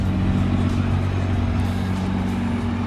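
A Nissan GT-R engine idles loud and close with a deep, steady rumble, holding a constant low drone throughout without any revving.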